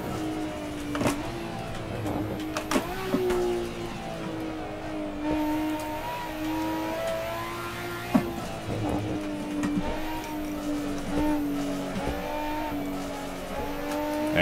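A race car in Assetto Corsa, running the Legends mod pack, drives a lap with its engine rising and falling through gear changes and downshifts into a tight right-hander, plus brief tire squeals, steady and prominent throughout with no voices.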